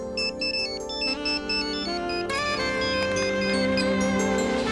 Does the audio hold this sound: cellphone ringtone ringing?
yes